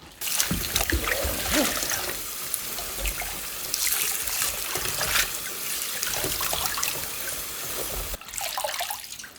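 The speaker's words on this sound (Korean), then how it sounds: "이렇게 해서 소금물을 좀 빼줘갖고 씻을 거예요." Salted young napa cabbage for kimchi is drained of salt water and rinsed, running water trickling and splashing steadily with a few handling sounds, close.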